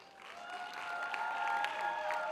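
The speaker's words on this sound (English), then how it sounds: "I don't know how many people are over here cheering for me" Distant applause and cheering from a college fest crowd at a fashion show in Mumbai, a soft continuous wash of clapping and voices that slowly swells, heard faintly at a distance.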